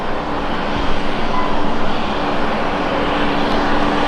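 Alliance airliner at Brisbane Airport, fully boarded and about to push back: a steady whining aircraft engine or ground power hum with broad roaring noise, continuous and moderately loud without voices.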